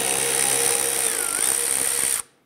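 Power drill on a 10 mm screw behind the rear wheel of a Toyota Camry, a steady high whine running for about two seconds with a brief pitch dip before stopping abruptly.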